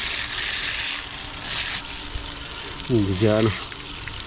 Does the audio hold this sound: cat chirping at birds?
no